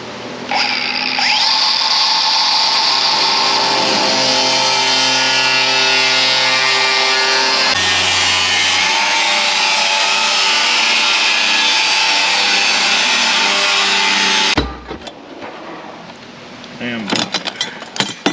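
Abrasive cut-off wheel slicing through a steel truck frame, a loud sustained high-pitched screaming whine held for about fourteen seconds, then spinning down into clanks and shop noise.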